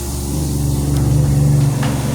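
A steady low motor hum with a whooshing watery rush drones continuously and close by, like a pump running.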